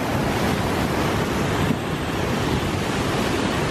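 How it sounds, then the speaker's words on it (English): Strong wind gusts at Niagara Falls, blending into the roar of falling water and spray in a steady, loud, unbroken wash of noise with no voices. "Because it is windy."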